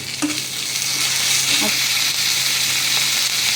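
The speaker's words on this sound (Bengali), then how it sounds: "এবার এখানে আদা রসুন বাটা দিয়ে দেবো।" Ginger-garlic paste frying with softened onions in a pan for a duck egg curry, a loud, steady, close sizzle with a few faint stirring clinks over it.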